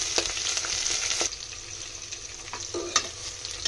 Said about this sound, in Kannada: ಅದು ಗೋಲ್ಡನ್ ಬ್ರೌನ್ ಕಲರ್ ಆಗೋವರೆಗೂ ಚೆನ್ನಾಗಿ ಫ್ರೈ ಮಾಡ್ಕೊಳ್ಳಿ, ಡೀಪ್ ಫ್ರೈ ಮಾಡ್ಕೊಳ್ಳಿ